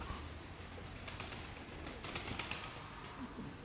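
Pigeons in a loft give soft cooing under a steady hiss of background noise, faint and somewhat distant, with a few light chirps mixed in.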